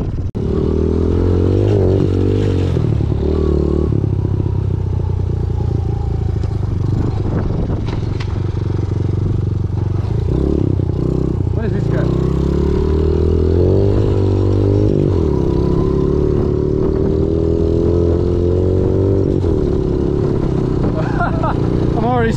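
A small Honda CRF50 pit bike rides around an abandoned DIY spot, its engine droning and revving up and down loudly and close throughout, with clattering and some voices mixed in.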